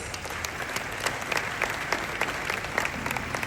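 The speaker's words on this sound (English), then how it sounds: "Let's welcome him with a round of applause" Audience at a tax revenue debate event clapping to welcome a speaker, a moderately loud round of applause with distinct individual claps throughout, no talking over it.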